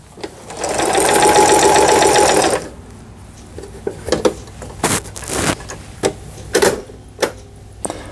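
A Toyota sewing machine runs a triple straight stitch in one loud, steady mechanical whir for about two and a half seconds, then stops, leaving a few scattered clicks and knocks nearby.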